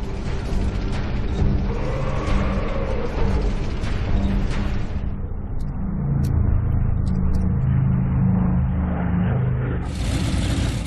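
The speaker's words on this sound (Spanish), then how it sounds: "Los carros alemanes ponen rumbo a Stalingrado." German tanks on the move toward Stalingrad, a heavy rumbling engine roar with mechanical clatter that swells and settles over about ten seconds, loud and continuous, with no voices over it.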